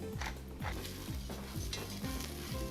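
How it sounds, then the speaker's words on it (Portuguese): Lentils stirred in a pan over a low flame, a steady sizzle running throughout with repeated scraping strokes of the spoon roughly every half second, close and moderately loud with no voices. "Eu baixei a chama da panela e vou trabalhar um pouquinho essa lentilha dessa maneira."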